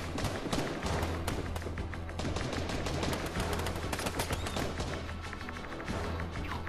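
Pistol gunfire in the Fortnite video game, with dense repeated cracks of shots in rapid bursts and continuous game action filling the whole stretch, loud and close throughout.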